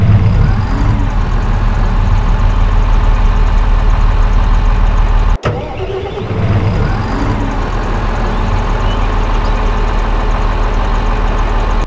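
Fendt MT crawler tractor engine in Farming Simulator 22, a loud, steady diesel drone running throughout, interrupted by one brief sharp cut midway before the idle resumes, no talk.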